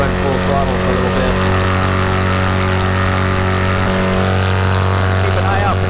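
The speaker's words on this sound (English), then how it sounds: "See how this engine likes to run full throttle for a little bit." A paramotor engine runs at full throttle, a loud steady drone with propeller noise that holds for the whole stretch, and someone talks faintly beneath it.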